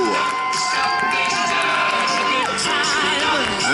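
A crowd at a knights' tournament show at Tatton Park cheers loudly for a chosen knight, with shouts, whoops and children's high voices. The noise is dense and sustained for the whole stretch.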